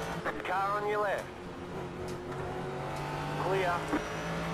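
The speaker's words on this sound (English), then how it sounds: "Car on your left." Race car pass at Road America, heard from inside a Ford GT in World Sportscar racing: a steady engine drone runs throughout, with brief rising sweeps of another car drawing alongside and pulling by, while radio-style voices talk over it.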